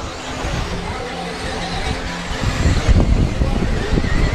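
Small RC model racing cars at a 2014 Montpellier D final, motors buzzing and whining continuously, growing louder and busier as cars pass close, with a French commentator talking over them.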